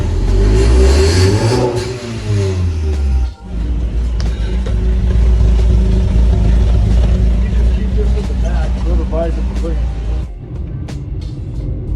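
A loud Honda CB7 motorcycle engine revs hard, its pitch sweeping up and down in bursts, then settles into a rough, rumbling idle close by.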